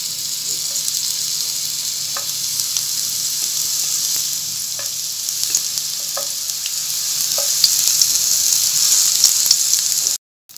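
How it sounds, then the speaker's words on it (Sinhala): Brinjal rings frying in hot oil, with a steady, bright sizzle and bubbling hiss that grows slightly louder before cutting off abruptly, plus a few faint clicks of stirring. "දැන් තෙල් එක රත් වෙලා තියෙන්නේ. මම දැන් හදාගත්ත වම්බුටු රවුන්ඩ් එක මේකෙන් දාගන්නවා."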